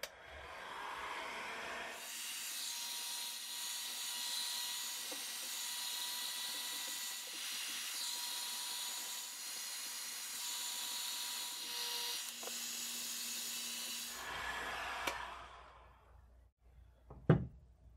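A heat gun blows steadily on a rifle action, its loud fan-and-heater hiss droning close and unbroken for about twelve seconds before it cuts off, followed by a sharp metallic knock.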